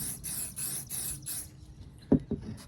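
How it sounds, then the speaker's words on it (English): Hairspray hisses onto a pine cone in a series of about five quick, even bursts, followed by quiet and two soft knocks near the end. "Take some of the hairspray, and you just want to do kind of an even coat the whole way across it."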